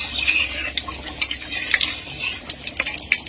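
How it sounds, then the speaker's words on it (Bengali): A utensil stirs food in a pan, heard as soft, irregular scraping and clinking strokes over a faint sizzle, fairly close and fairly quiet. "এটা ভালো করে নাড়াচাড়া করে নিচ্ছি।"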